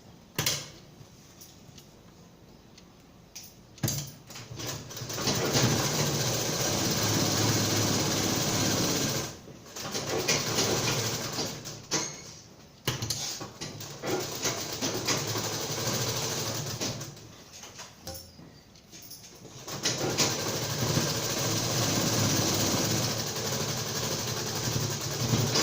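An electric sewing machine stitches a boat-neck princess-cut blouse in several loud, close runs of rapid mechanical whirring separated by short pauses, with no talking.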